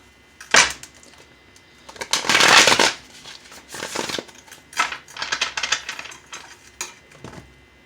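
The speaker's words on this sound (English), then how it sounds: "Let's do one more casino shuffle." Playing cards riffle together in several quick casino shuffles, each a short fluttering burst, up close with pauses between.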